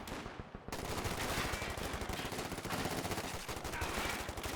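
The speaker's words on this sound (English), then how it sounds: "Maxim's very good at those machine gun on machine gun fights." A Maxim machine gun in a Company of Heroes 2 fight hammers out a steady, sustained stream of rapid shots at close range, loud and unbroken after a brief opening pause.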